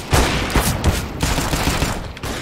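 Bursts of rapid gunfire in a competitive online shooter match, several quick volleys of shots in close succession, loud and near, with no talking over them.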